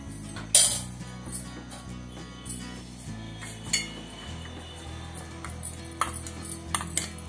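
Spices such as salt, coriander powder, cumin powder and chaat masala being tossed with crispy idli fingers in a bowl, giving light clinks and scrapes of utensil against dish, scattered and irregular over steady background music.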